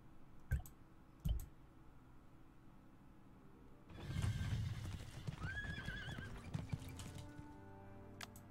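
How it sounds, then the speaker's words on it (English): Horse in the Dark Parables hidden-object game moving forward: a few sharp clip-clop hoof clicks early on, then a louder burst of hooves with a brief whinny, close and clear, with no talking. "Well, the horse is moving forward."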